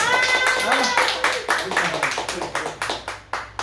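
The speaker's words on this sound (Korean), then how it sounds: "그럼 우리 박수로 한번 안녕하세요." Audience clapping in greeting at a church gathering, a scattered patter of hands building after a voice speaks at the start, continuing at moderate loudness.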